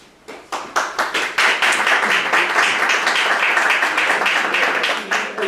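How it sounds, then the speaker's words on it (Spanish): Audience at a university debate breaking into applause, starting with a few scattered claps and quickly swelling into loud, sustained clapping from many people in a hall. "Le aplaudamos porque es una tradición histórica en el debate de cada vez que termina uno, se le aplaude"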